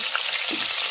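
Chicken leg pieces frying in hot oil, a dense, close crackling sizzle that holds steady for a brief moment.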